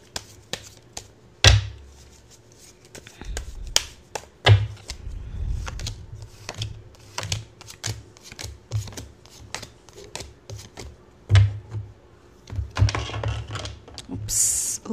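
Tarot cards are shuffled and handled up close, giving sharp crisp snaps and riffles spread irregularly over the span with quieter rustling between them and a louder flurry near the end, with no voices.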